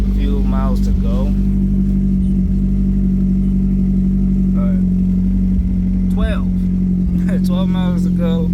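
A Mazdaspeed 3 with a fueling fault and little gas in the tank idles steadily and loudly up close, a constant low engine drone running throughout while people talk over it in bursts.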